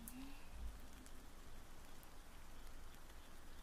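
Gentle rain falls steadily in an ASMR setting, a soft continuous patter of drops with a brief low thump near the start, quiet and even throughout.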